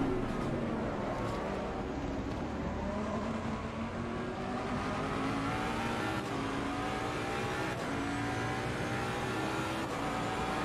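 A race car engine in Assetto Corsa Competizione drones steadily and loudly throughout, its pitch shifting up and down as the car changes gears.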